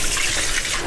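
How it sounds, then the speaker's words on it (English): Water from a kitchen tap runs steadily over drained canned salmon, a brief, close splashing flow with no talk. "And then run the water."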